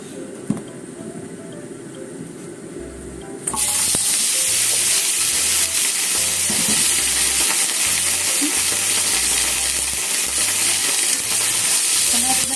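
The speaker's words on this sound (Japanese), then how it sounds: "炒めますよ。 茎の方からね。" Komatsuna greens and egg stir-frying in sesame oil in a preheated frying pan, a loud steady sizzle that bursts in abruptly and keeps hissing, with scattered clinks and scrapes of stirring throughout.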